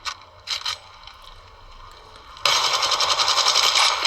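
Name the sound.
weapon reloading in a mobile shooter video game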